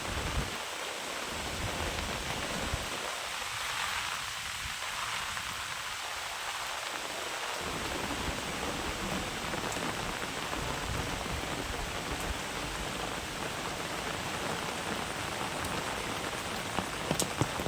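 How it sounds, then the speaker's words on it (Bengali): Continuous monsoon rain falls over a rooftop garden with waterlogged pots, a steady dense hiss of drops on surfaces throughout, fairly loud and unbroken, with no voices. "এক নাগারে কন্টিনিউসলি বৃষ্টি হয়েই যাচ্ছে"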